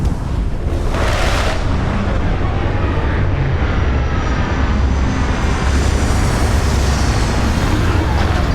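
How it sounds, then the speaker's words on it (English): A spaceship in the Starfield video game comes in to land with a loud, steady engine roar and rumble that holds for several seconds, with no talk over it. "We're locked in and landing."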